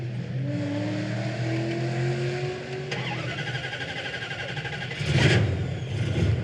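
A hot rod or muscle car engine starts and runs steadily with rising pitch as it revs, then a sharp surge of revving near the end, loud and close.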